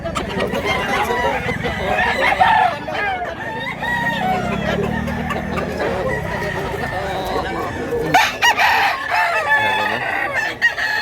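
A rooster crows loudly and repeatedly at a chicken market in Mantalungon, Cebu, with clucking fowl and someone talking close by throughout.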